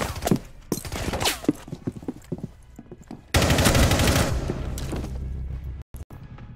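Video game gunfire: scattered shots and short bursts, then a loud, dense sustained barrage partway through that holds until a few sharp pops near the end.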